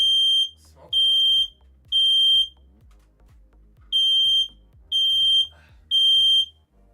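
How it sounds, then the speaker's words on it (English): Smoke alarm beeping indoors in a home: six loud, piercing high-pitched beeps in two groups of three, each about half a second long, with quiet gaps between and faint background noise. "Smoke alarm."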